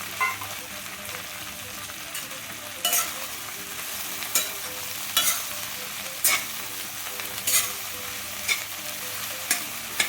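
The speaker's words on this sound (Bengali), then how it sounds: "1 মিনিট এইভাবে নাড়াচাড়া করব।" A spiced hot-sweet-sour pickle mixture is stirred in a pan over a low gas flame, giving a steady soft sizzle broken by sharp, regular scraping strokes of the spoon roughly every second, close and without talk.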